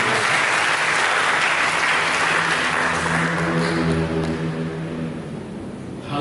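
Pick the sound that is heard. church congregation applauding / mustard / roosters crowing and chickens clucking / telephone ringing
church congregation applauding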